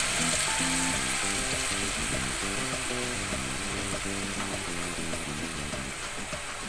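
Marinade broth poured into a pan of pork steak sizzles with a steady frying hiss, faint and continuous, while a musical tone pattern plays underneath.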